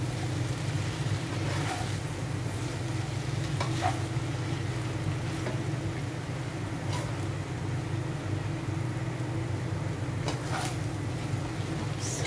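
Shrimp pancit canton noodles stir-fry over high fire, giving a steady loud sizzle under a low burner roar, with occasional clinks of a utensil against the pan.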